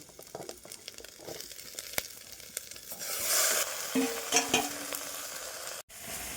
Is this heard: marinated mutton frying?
yes